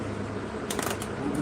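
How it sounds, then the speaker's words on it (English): A deck of playing cards is shuffled in a quick riffle, a short burst of papery flutter and snaps over a steady background hum, with no talking. "Well, I'm gonna do my 17 shuffles."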